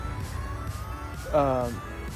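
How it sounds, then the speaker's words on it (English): Passing road traffic heard near a roadside while someone walks and talks, a low steady vehicle rumble under the voice with a brief rising siren-like tone swelling and fading midway. "Sorry, you're probably hearing some traffic"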